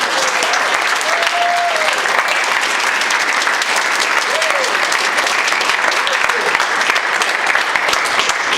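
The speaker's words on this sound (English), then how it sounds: "she deserves a tremendous round of applause" A room full of guests at a tennis breakfast gives a steady, loud round of applause, dense clapping that carries evenly throughout with a few faint voices beneath.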